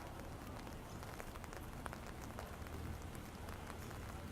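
Steady rain falls continuously on hard surfaces outdoors near a bank drive-thru in Venice, Florida, a dense, even hiss of drops with no voices.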